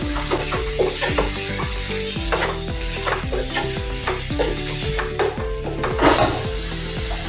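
Spices are stirred into spring onion and gram flour sabzi as it sizzles steadily in a pan, with a regular rhythm of spoon scrapes and knocks against the pot, close and fairly loud throughout.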